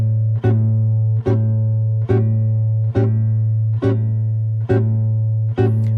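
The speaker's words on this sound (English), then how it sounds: "we're simply going to keep the first finger fretted while fingers 2, 3, and 4 are popped" Guitar chord with the first finger holding a bass note while fingers two, three and four pop on and off, giving seven evenly spaced rhythmic plucks over a sustained low tone, close and clear.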